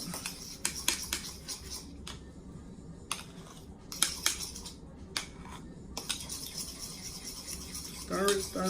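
A utensil stirs mayonnaise in a small bowl, making repeated close scraping and clinking strokes in an irregular rhythm, with brief pauses between bursts.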